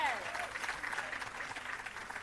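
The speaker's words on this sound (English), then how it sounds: "Keep the applause going for Raina." Steady applause from an audience at a restorative justice facilitators' graduation ceremony, with dense clapping holding at an even level throughout.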